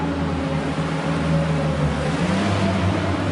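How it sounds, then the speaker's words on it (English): A Genie boom lift drives in reverse at high speed, giving a steady, loud engine and drive drone with a constant hum throughout and no talking. "So we're going to travel in reverse at high speed."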